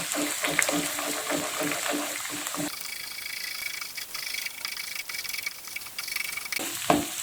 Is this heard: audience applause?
no